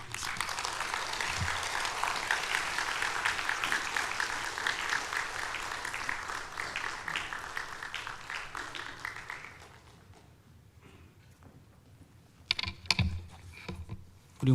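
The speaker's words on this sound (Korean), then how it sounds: "나오실 때 우리 박수로 환영하도록 하겠습니다" Warm applause from a church congregation at a Friday worship service, welcoming a guest professor and seminary professor emeritus; dense steady clapping for about ten seconds, then it fades to quiet with a few scattered claps and knocks.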